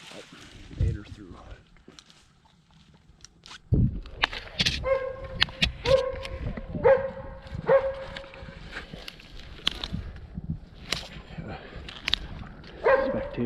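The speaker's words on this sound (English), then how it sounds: "Tater and his dog playing catch." A dog playing catch outdoors by a lake barks, yips and whimpers in short scattered bursts, close by, mixed with thuds and rustling while people talk intermittently.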